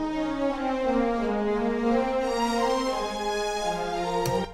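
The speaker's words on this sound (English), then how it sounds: "And then the cello comes in here on bar 72, which is being doubled by the French horns" Sustained orchestral cello line doubled by French horns from The Polar Express score, warm harmonic tones gliding smoothly over a steady held texture, with a sharp bright accent near the end.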